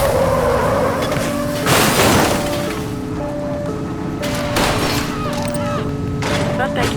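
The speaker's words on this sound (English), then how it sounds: "She's shooting!" Gunfire erupts during a police car chase in the video game The Precinct, with sharp bursts of shots cutting through steady engine roar and wailing siren-like tones, loud and close.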